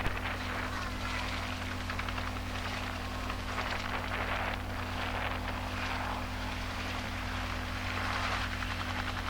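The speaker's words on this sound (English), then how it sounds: "As one chopper left with its payload of water" A loud, steady rotor roar with a constant low throb fills the whole stretch, a firefighting helicopter carrying water passing close overhead during a mountain wildfire near Fish Hoek.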